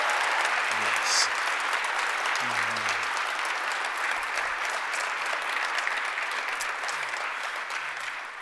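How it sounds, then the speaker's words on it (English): A live audience gives a sustained, resounding round of applause at an introduction event, dense steady clapping that fills the whole stretch and tapers slightly at the end. "Would you, for me, if you don't mind, just give another resounding round of applause for Jim Tovey?"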